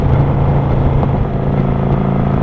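A motorcycle engine runs loud and close, a continuous rough rumble with a steady throaty drone and slight rises in pitch, heard alone outdoors.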